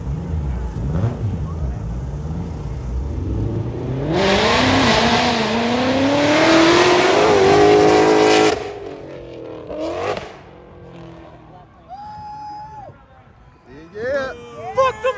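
A car's exhaust roars at a rolling exhaust competition, rising into a loud, harsh revving blast for several seconds before cutting off, with a crowd shouting and cheering around it before and after.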